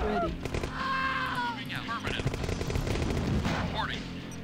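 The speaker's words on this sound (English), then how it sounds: "You could hear the one gunshot from the technician coming out of that structure." Gunfire and bursts from the DOS real-time strategy game Command & Conquer, rapid repeated shots in a busy battle mix, with someone talking over the game sounds.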